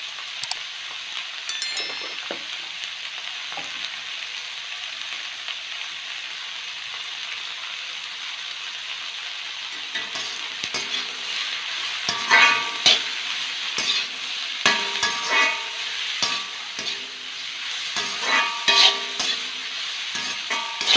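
Onions with turmeric, cooking for mutton, sizzle steadily in a pan, with repeated spoon-stirring scrapes and clatters growing busier in the second half; no talking.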